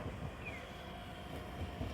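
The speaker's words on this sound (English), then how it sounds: "The tram was going very slowly" A tram rolling slowly along its line through busy Hiroshima streets, giving a steady low rumble with light wheel and rail hiss, continuous and unaccompanied by voices.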